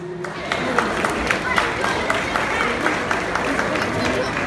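A crowd at a festival for San Mateo in Passaic, New Jersey bursts into loud, steady applause, many hands clapping continuously with no pause.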